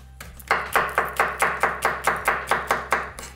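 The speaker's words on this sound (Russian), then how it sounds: "Также мелко нарубим 20 граммов грецких орехов." Walnuts being finely chopped with a knife on a board, a steady run of roughly eleven evenly spaced, close, crisp knocks with no voices.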